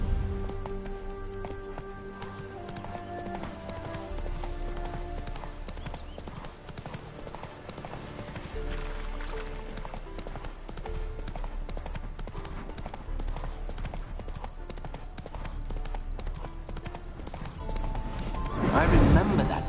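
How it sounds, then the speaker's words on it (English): Horse hooves clip-clop steadily on the ground in The Witcher 3 as the mare Roach is ridden, a continuous rhythmic trot beneath game music and a character's voice. "Spooking my horse."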